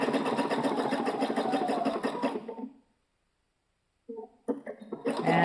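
A sewing machine stitching a raw edge applique with rayon thread runs in a steady, rapid mechanical hum for a couple of seconds, stops, then restarts in short bursts.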